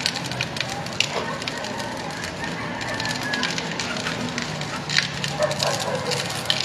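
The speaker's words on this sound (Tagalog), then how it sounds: "laki na sunog" A large building fire in Katuparan, Tondo, Manila burns with dense continuous crackling and popping, loud and close, with a roaring wash underneath and occasional sharper snaps.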